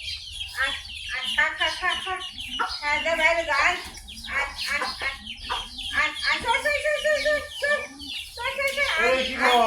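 Village chickens cluck and chirp in a busy, continuous jumble close by, mixed with people talking.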